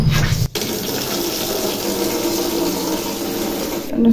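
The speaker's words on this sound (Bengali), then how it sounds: "এবারে কলটা চালিয়ে দেবো" A tap turned on in a home kitchen sink runs steadily, a loud continuous gush of water after a brief click at the start, filling the scene alone with no talk.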